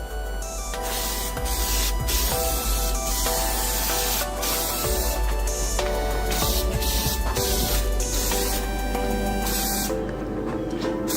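A spray gun lays a heavy final coat of paint on a car's center console, giving a steady, loud hiss that runs for the whole stretch with only brief dips. Faint tonal sounds sit in the background.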